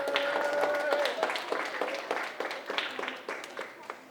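A school audience claps for students after a project, scattered individual claps that thin out and grow sparser, fairly faint, with a little murmuring.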